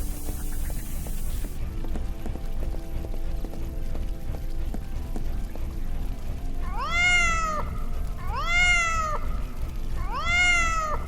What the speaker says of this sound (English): Almost forgot about your cat.